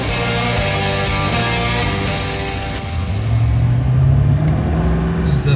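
A car engine, just back from a repair with old sludgy oil still in it, idles steadily up close and then revs up gently partway through. No one talks over it.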